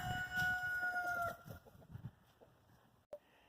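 On a farm, a rooster crows once, a loud drawn-out call that fades into soft farmyard noise before a brief knock.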